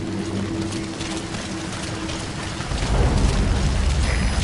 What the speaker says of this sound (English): Sound of rainfall should help to mask your footsteps.